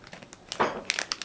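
A Moko Awa Shake grape-flavored candy packet is opened, producing a brief series of sharp crinkles and plastic rustles, close and fairly quiet.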